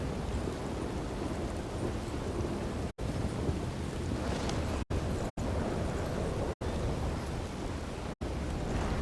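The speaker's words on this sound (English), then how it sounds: "Boy, heck of a storm already." A thunderstorm pours heavy, steady rain with rumbling thunder, loud and close throughout, broken only by a few brief cuts to silence.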